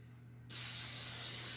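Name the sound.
cooking spray can spraying a baking pan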